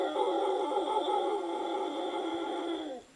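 A voice mimics a howler monkey call as one sustained, tonal, whining moan held for about three seconds before cutting off, close and loud with no talking around it.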